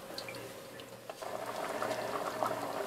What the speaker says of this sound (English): So the mix has come to a boil